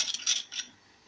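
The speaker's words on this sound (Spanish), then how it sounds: "Y vamos a seguir revolviendo hasta que no quede nada" A utensil stirs borax-free slime in a bowl, giving a few quick, light clinks and scrapes close by that fade into near silence.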